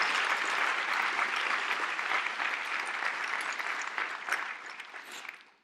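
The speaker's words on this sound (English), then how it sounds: "Could we have a bit of applause for them as well?" A ceremony audience applauds fellow peace education prize awardees, steady dense clapping that holds for several seconds before tapering off at the end.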